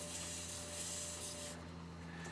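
A wooden shaving brush handle is hand-sanded with 600 grit sandpaper, a soft continuous rubbing hiss that eases off partway through, close and quiet with no talking.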